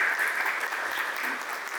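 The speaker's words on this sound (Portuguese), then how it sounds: "por favor, uma salva de palmas" A crowd at a farewell event for a club president in Paudalho, Pernambuco, applauding steadily, a dense wash of clapping at constant strength throughout.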